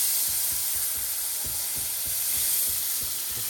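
Chardonnay wine sizzles and reduces in a hot pan for mini beef Wellington appetizers, a steady close hiss broken by soft, rhythmic stirring strokes.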